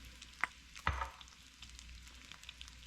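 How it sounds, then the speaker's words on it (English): Bacon renders in a pan over a raised flame, giving a quiet, steady sizzle and fry with a couple of louder pops and stirring knocks. "Turn the fire up a little bit. Get this bacon rendered."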